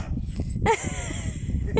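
A dog gives a couple of short, close yips or whimpering barks outdoors, brief sharp bursts over a noisy background.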